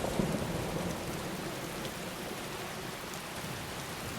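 Steady rain falling across a Skyrim Special Edition landscape, a continuous even hiss of drops with a faint low rumble underneath, constant and enveloping from start to finish.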